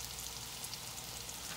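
Cornmeal-coated summer squash fries in a hot pan, giving a steady, quiet crackling sizzle that continues evenly with no one talking.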